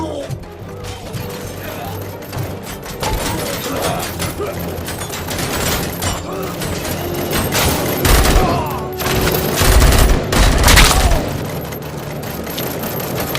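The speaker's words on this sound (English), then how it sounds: "Covering fire!" Gunfire in the RoboCop Rogue City video game, dense bursts and heavy booms crackling through a busy firefight, growing louder around the middle, with game voices calling out over the shooting.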